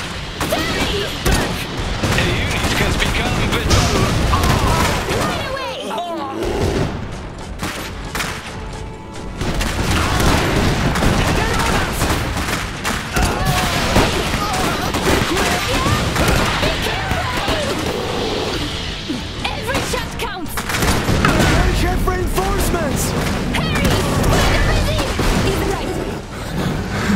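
Battle noise from the Iron Harvest 1920 strategy game fills the scene: continuous loud gunfire, booms and explosions, with brief lulls between the dense volleys and voices calling out over the fighting.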